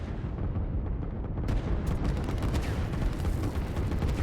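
Artillery fire from the real-time strategy game Line War: a dense, continuous roar of overlapping booms and rumbling blasts, loud and steady throughout with no pauses and no talk.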